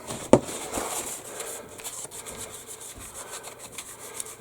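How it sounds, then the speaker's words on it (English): Close, steady rubbing and scraping of a small plastic part of a 1/72 scale B-17G model being polished, a soft continuous abrasive swish with a brief tap near the start. "A little polishing to smooth it out."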